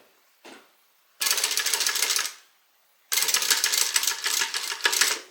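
A sewing machine stitches a basting line to hold a zipper in place for a hobo shoulder bag, giving two rapid rattling bursts of needle clatter separated by a short pause, close and clear.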